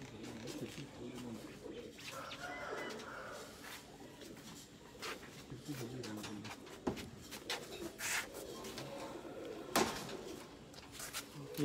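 A caged pigeon coos repeatedly in soft, rounded bursts close by, with rustling and light knocking against the cage, after being left outdoors overnight in bad weather.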